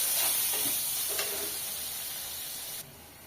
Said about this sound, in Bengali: মশলাটা সুন্দর করে ভাজে নেব।